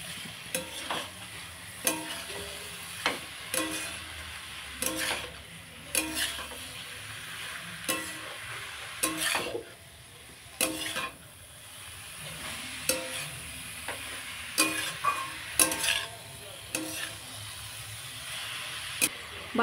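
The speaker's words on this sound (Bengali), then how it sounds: "ভালো করে আমি বাঁধাকপিটা মশলার সাথে মিশিয়ে দেব।" Boiled cabbage stirred with spices in a frying pan, a spoon scraping and knocking the pan in irregular strokes over a steady soft sizzle, close and alone.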